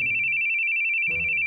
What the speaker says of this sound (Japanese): 再び、電話がかかってきた。